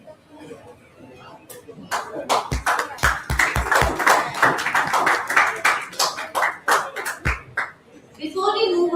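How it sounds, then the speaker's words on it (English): An audience at a physiotherapy conference award ceremony applauds with scattered, uneven claps that build and then thin out. The clapping is moderately close and mixed with chatter and voices at the start and end. "Please welcome sir with a huge round of applause"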